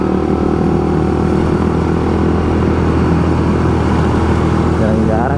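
A clutch-equipped motorcycle on a Sunday morning group ride, its engine droning steadily and close throughout with a constant road rush and wind noise beneath.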